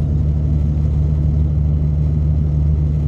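A Ford Cargo 2422 truck drives at speed with its engine droning in a steady, loud low hum, constant and without pauses from the cab.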